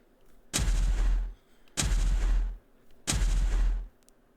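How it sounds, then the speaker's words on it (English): Punches in a video game, each creating multiple shockwaves: three loud, booming, evenly spaced blasts with heavy low-end rumble, each lasting under a second and separated by short silences. "whenever you punch, it creates multiple shockwaves instead of just one"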